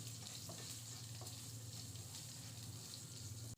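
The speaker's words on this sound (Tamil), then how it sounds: "இதோட நம்ம நறுக்கி எடுத்து வச்சிருந்த வெங்காயத்தை சேர்த்து வதக்கிடலாம்" Chopped onions sautéing in hot oil in a pan for an egg semiya biryani, giving a dense, steady sizzle and crackle with faint stirring scrapes, close and continuous throughout.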